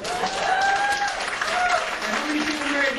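Comedy club audience applause, dense and steady clapping at close range filling the whole moment, with a voice briefly audible over it.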